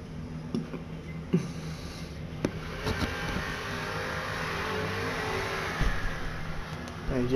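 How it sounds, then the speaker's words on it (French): A motorcycle passes by outside during a dry thunderstorm in Saint-Denis, its engine rising and fading through a steady wash of road and wind noise with a few sharp knocks. "c'est une moto."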